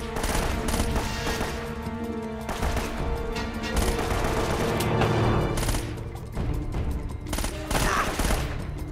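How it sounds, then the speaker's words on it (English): Gunfire in the video game Uncharted: Drake's Fortune, with dense rapid bursts and repeated shots rattling continuously at a steady, fairly loud level. "How many rounds did I just put in your face?"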